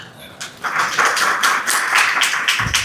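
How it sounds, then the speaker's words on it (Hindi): Several quick hand claps from a lone listener at a religious discourse, close and fairly loud in a short uneven burst with no voices over them. "अकेला सुनकर ताली बजा दी"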